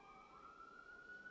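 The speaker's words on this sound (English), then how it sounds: "here comes our first siren for the day" An emergency vehicle siren wails outside at a distance, a faint steady rising tone with no talk over it.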